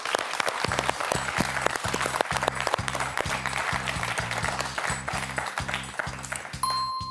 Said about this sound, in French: Je vous applaudis pour les 2 choses, Max.